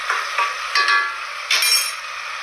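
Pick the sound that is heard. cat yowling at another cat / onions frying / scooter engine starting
onions frying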